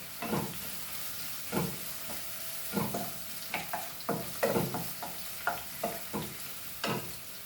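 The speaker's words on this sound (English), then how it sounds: "let it get nicely fried" Onions frying in a pan for a Goan pomfret side dish, a gentle sizzle broken by irregular stirring and scraping strokes, close by with no talking.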